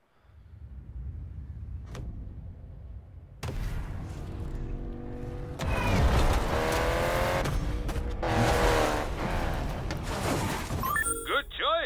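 Honda S2000 in Need for Speed Payback, engine revving and rising through gears with tire noise, loud and building across the stretch, with game sounds and voices at times.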